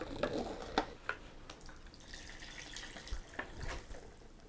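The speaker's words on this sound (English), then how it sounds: "Oh yeah, that totally splashed everywhere." Hot water splashes and patters into a sink as a pot of Lucky Me! Beef Mami instant ramen is drained, a quiet series of splashes and drips with a few sharper spatters.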